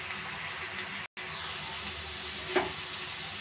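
Carrots, beans and capsicum frying in a pan with ginger and chilli, a steady close sizzle that runs throughout, broken by a brief silent gap and one sharp stir or clatter near the end.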